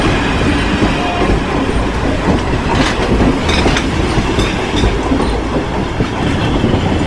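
An overnight passenger train to Benares rumbles loudly on the rails with a steady clickety-clack and faint wheel squeal, sounding as if heard from inside a carriage.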